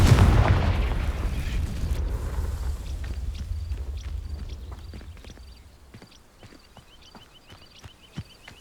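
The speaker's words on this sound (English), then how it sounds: "These dry vines are one spark away from becoming kindling. Confringo!" A Confringo fire spell igniting dry vines in Hogwarts Legacy, opening with a loud whooshing fiery burst that fades into a quieter crackle, followed by scattered footsteps.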